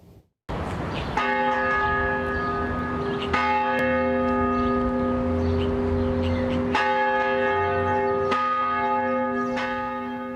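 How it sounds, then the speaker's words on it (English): Church bell tolling in Springfield for the 12-year anniversary of an EF-3 tornado, slow separate strikes each ringing out with a long sustained hum, loud and close with no talking. "Springfield marked the anniversary with a moment of silence followed by 12 bell tolls"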